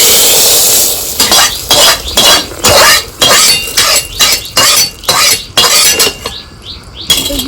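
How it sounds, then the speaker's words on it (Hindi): Hot oil sizzles and crackles loudly with garlic and cumin while a spoon scrapes and clinks against the pan in a steady stirring rhythm. "तेल गरम हो गया था, लहसुन डाल देंगे और थोड़ा सा जीरा डाल देंगे"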